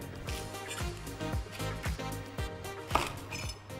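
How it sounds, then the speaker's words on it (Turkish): A knife chops thick cabbage stems on a board with a quick, steady rhythm of close, crisp cuts and thuds, repeated many times. "Onları bir bıçak yardımıyla kesiyoruz öncesinde"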